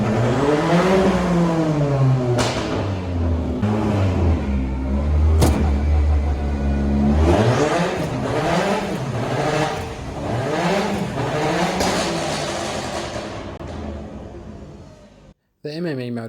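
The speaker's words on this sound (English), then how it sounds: "it's a bit scary doing the flat shifting on the stands in top gear" Rally-prepared Ford Fiesta ST engine on stands revs hard and flat-shifts up through the gears with a paddle shift kit, loud and close, with rising and falling sweeps and sharp cuts at each shift.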